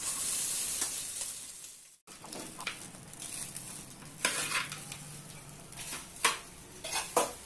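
Rice is stirred into sizzling fried tempering in a pan while making okra fried rice, with spoon scrapes and clatter against the pan over a steady frying hiss, the scrapes growing louder and sharper in the second half.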